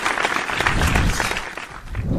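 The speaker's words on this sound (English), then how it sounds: "Please do clap for them now." An audience claps for a quiz team at a quiz event, a short burst of dense, fairly close applause that holds steady and then thins slightly toward the end.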